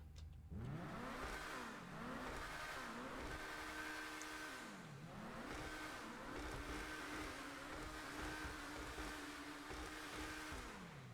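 Progen Emerus supercar engine in GTA Online, revving hard in a sound test with several sustained rises and dips in pitch, a steady close engine drone with no talking.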